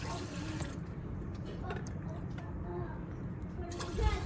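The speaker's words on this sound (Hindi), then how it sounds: "पानी मैंने ऐड कर दिया" Water pours steadily into a cooking pot set up in a village kitchen, a continuous splashing rush that holds at an even level for several seconds.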